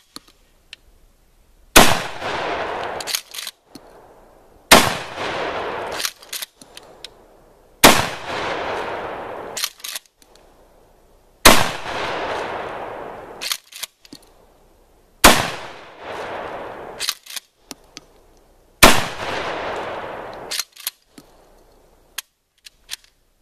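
A pump-action shotgun fires six loud, close blasts at even intervals of about three seconds, each followed by the metallic clack of the slide being pumped.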